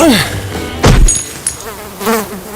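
Flies buzz inside an abandoned building, with a bright whining drone in bursts: one close pass near the start and another later, and a low thump in between.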